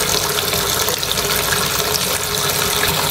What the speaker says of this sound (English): So this is me soaking the sponge in hot water